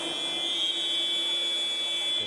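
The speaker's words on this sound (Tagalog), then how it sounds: "Still enough time to pull up a shot and able to beat the buzzer." A basketball game buzzer sounds as a steady, sustained electronic tone through a busy arena during a professional league game, holding continuously with crowd noise beneath.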